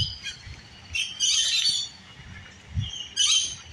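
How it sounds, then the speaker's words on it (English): Birds at the Busch Gardens wildlife reserve in Virginia give several loud squawks and chirps in separate bursts over a few seconds, fairly close and not overlaid by talk. "Here's the wildlife birds."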